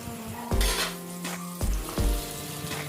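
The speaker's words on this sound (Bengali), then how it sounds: "দিয়ে দিলাম কেটে রাখা আলুগুলো ভালোভাবে নেড়ে চেড়ে নিচ্ছি দু মিনিট মতো" Cut potatoes stirred and fried in a pan for a Bengali vegetable sukto, with steady sizzling broken by several loud scrapes and clanks of the spatula against the pan.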